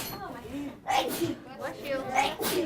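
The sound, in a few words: sneeze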